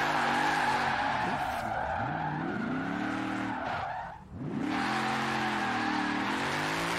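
A race car in Forza Horizon 4 with its turbo whining and engine revving up and down in rising and falling sweeps, loud and close, with tire skids along the way and a brief dip near the end.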